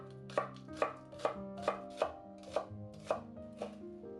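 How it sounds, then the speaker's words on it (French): A knife slices a stalk of spring onion into rounds on a cutting board, about nine crisp, evenly spaced chops heard up close and fairly quiet, with no talking. "Coupez la branche de cébette en rondelles"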